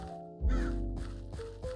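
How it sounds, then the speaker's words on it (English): A crow in modded Minecraft gives a couple of harsh caws, close and fairly loud, over a low droning game background with no talk. "We have a crow in here."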